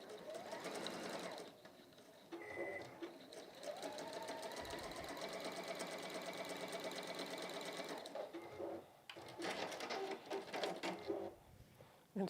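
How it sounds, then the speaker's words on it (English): A sewing machine runs a quarter-inch seam on a quilt's four-patch unit, its fast even needle chatter continuing close and steady for several seconds with brief pauses and changes in speed. "we place that on the top of the 4-patch unit, and we're going to sew that onto there"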